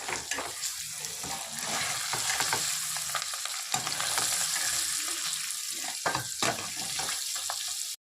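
Chicken fry with garam masala and coriander being stirred in a pan, a constant loud sizzle with scraping spoon strokes running through it, close up and uninterrupted until it cuts off abruptly at the end, no one speaking.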